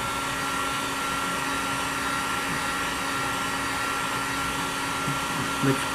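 A hot air blower runs steadily while heating heat shrink tubing on a DIY battery cable wire, giving a continuous close whooshing hum with a faint tonal whine and no talk.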